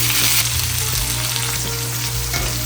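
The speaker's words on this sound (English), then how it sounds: "I'm going to add some butter, because we want to start butter basting these bad boys" Steaks sizzling hard in a hot pan with butter, a loud continuous close fry with brief clinks and shifts of the pan.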